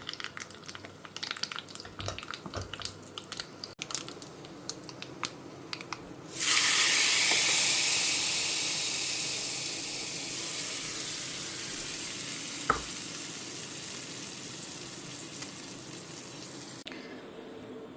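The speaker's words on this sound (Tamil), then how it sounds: "கொஞ்சமா பெருங்காயம் தாளிச்சு கொட்டிட்டோம்" Mustard seeds, urad dal, curry leaves and asafoetida tempered in hot oil for a Tamil home-cooked lunch, bursting into a loud, steady sizzle that starts abruptly partway through after quieter kitchen clatter, then fades slightly while continuing to the end.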